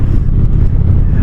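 Car driving along a country road, heard from inside as a loud, steady low engine and road rumble that stays constant throughout with no talk.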